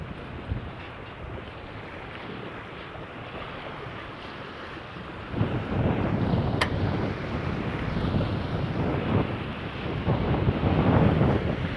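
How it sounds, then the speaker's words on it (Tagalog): Strong wind buffets the microphone in a continuous roar that grows heavier midway, with lake water and surf rushing underneath at the Taal Lake baywalk in San Nicolas, Batangas, and no voices. "Ang bilis ng hangin."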